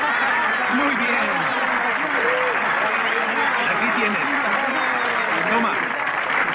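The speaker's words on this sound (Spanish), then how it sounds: "¡Un aplauso!" A crowd applauds the third-place couple at a dance contest, a thick wash of clapping mixed with chatter and some chuckles.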